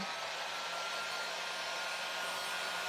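A hair dryer blows steadily and close by, drying fresh paint on a wooden farmhouse chicken from a rustic hanging craft kit, its even whoosh running unbroken and alone throughout.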